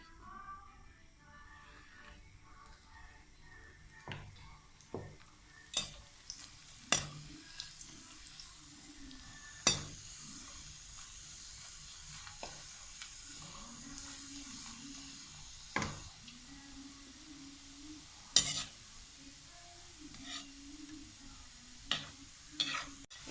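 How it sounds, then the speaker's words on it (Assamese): Nimki frying in hot oil in small batches, a soft, steady sizzle with scattered sharp clinks and scrapes of a utensil stirring in the pan, fairly faint and close. "একেলগে দিলে ভজাটো অকণমান বেয়া হয়, মই সেইকাৰণে অলপ অলপকৈ ভাজিছোঁ"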